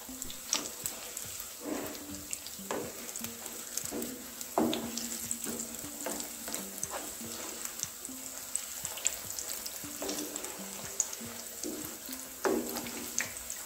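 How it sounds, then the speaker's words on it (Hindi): Cauliflower pakoras fry in hot oil over a medium gas flame, a faint, steady crackle with soft scattered pops and occasional kitchen clinks. "पकौड़ों को हमने तेल में डाल दिया है, अब गैस की फ्लेम को हम मीडियम कर देंगे।"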